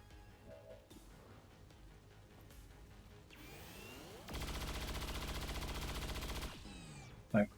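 In XCOM 2 Long War of the Chosen, a squad opens fire on one enemy. A sustained, loud burst of automatic gunfire rattles for about two seconds, preceded by quieter mechanical whirs and followed by a single sharp impact.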